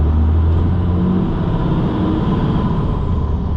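A truck engine with a 12-valve swap drones steadily with a low rumble during clutchless gear shifting in a winter blizzard, a close, continuous sound with no talking over it.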